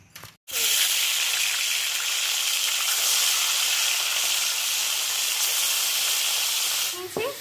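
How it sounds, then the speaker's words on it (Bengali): Fish pieces rubbed with salt and turmeric hit hot oil after a brief quiet moment, bursting into a loud, sustained hissing sizzle that holds steady close by, then drops away near the end. "দিয়ে মাছগুলো এবার ছেড়ে দেবো ভাজার জন্য।"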